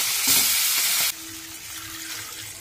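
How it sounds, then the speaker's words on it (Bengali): Chicken pieces drop into melted butter and oil for a momo stock, setting off a loud, hissing sizzle that suddenly eases after about a second into a calmer, steady frying crackle, with no one talking. "এখন আমি ওই তেলের মধ্যে চিকেন স্টক করার জন্য আমি কয়েক টুকরো চিকেন দিয়ে দিলাম।"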